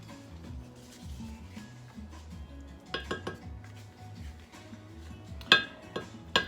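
A spoon stirring shrimp and crab bisque in a metal pot, scraping and clinking against the sides, with a few sharper knocks near the end and no talking over it.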